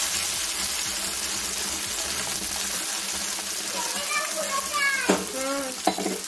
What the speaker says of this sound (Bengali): কড়াইশুঁটি আদা জিরে যে পেস্টটা তৈরি করে রেখেছি সেটাকে এই তেলটার মধ্যে দিয়ে দেবো